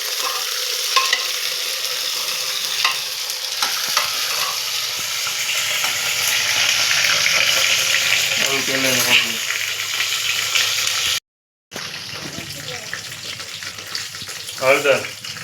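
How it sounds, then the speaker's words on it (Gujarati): Whole eggplants dropped into a pan of browned onions at a village cookout, a loud, steady frying hiss with stirring scrapes, a brief cut to silence, and some faint voices in the background. "બધા રીંગણા નાખી દેવાના છે"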